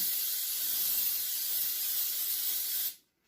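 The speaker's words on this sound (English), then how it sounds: "I'm going to go ahead and spray it with Pam baking spray with flour." A steady aerosol spray of Pam baking spray with flour hisses for about three seconds up close into a cheesecake pan, then cuts off abruptly into silence.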